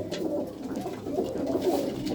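Pure-bred pigeons coo continuously nearby in a Punjabi village loft, low rolling calls overlapping in a steady, soft chorus with no talking.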